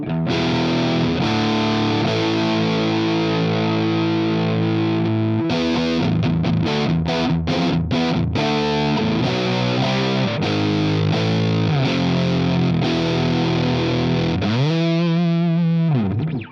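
Heavily fuzzed electric guitar through a Russian Big Muff reissue plays sustained chords and choppy riffs, thick and saturated with buzzy hard clipping, ending in a wobbling bend.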